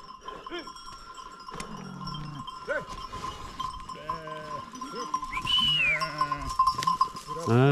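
Several sheep and lambs bleat repeatedly, some close and some farther off, with clanking bells and a few shouts mixed in.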